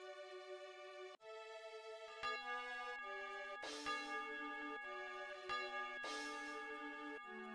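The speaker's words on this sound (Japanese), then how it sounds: "夢の終わりを告げる鐘だ。" A bell tolls in the video game Star Ocean, its resonant tones sounding in several successive strikes whose ringing overlaps and sustains, soft and clear with no voices over it.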